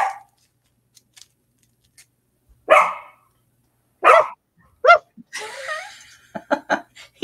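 A dog barks in short, sharp bursts, several separate woofs spaced over several seconds in an otherwise quiet indoor room, with a person talking in between.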